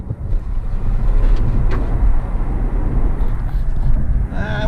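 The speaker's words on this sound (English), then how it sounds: "if you put the car into chill mode, it says chill on the speedometer area, and if you go to accelerate" A Tesla P85 accelerates in chill mode, heard from inside the cabin as a steady, loud rush of road and wind noise that holds for several seconds, with no voices over it.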